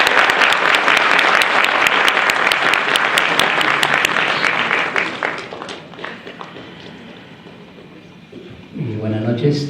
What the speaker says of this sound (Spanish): con un aplauso de bienvenida para él lo recibimos